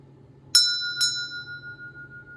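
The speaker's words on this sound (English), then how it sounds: "I'm going to go ahead and ring the heart chakra bell for the inner child that's" A heart chakra bell rung twice in close succession, each bright metallic strike leaving a long, clear ringing tone that slowly fades over a quiet low hum.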